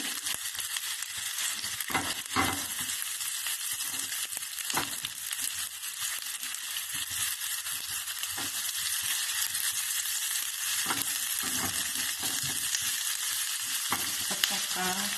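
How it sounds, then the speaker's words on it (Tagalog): Chopped chili hits a pan of sautéing chicken liver, a steady close sizzle of frying with scattered stirring scrapes and clicks throughout, no voices. "Ilagay natin yung sili."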